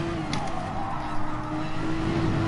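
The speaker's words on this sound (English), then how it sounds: "A lot of understeer. A lot of scrubbing understeer." Race car tyres squealing and scrubbing under understeer through a corner in Gran Turismo Sport, a steady tonal squeal over the engine drone, continuous for a few seconds.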